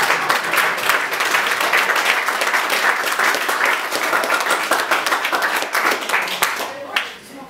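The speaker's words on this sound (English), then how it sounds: "A lot of times when I do this, people bust out into spontaneous applause." A theater audience breaks into loud, sustained applause, dense clapping from many hands that holds steady and then tapers off at the end.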